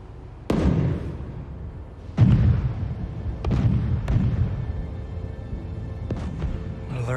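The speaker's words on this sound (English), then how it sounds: "early for fireworks." Fireworks bursting in the Marvel's Spider-Man video game: a series of sharp booming explosions, about five or six, spaced irregularly over a rumbling background, fairly loud and close.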